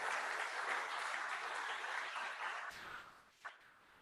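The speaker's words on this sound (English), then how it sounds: "So a big round of applause for Dan and the board and the folks here at Empower You." An audience at a political talk on restoring the Constitution applauds in a soft, distant patter of many hands that fades out after nearly three seconds, leaving a brief quiet with a single sharp tap.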